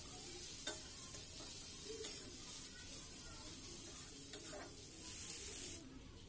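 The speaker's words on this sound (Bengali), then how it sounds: "পেঁয়াজটা আমি ভালো করে ভেজে নেব।" Onions fry in a pan with a soft, continuous sizzle while a spoon stirs them, scraping in a few irregular strokes; quiet and close, no voices.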